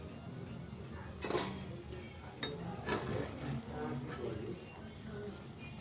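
Palm fruit fritters (taler bora) fry in hot oil, a soft, constant sizzle broken by a few sharp scrapes and clinks of a utensil against the pan, fairly quiet and close.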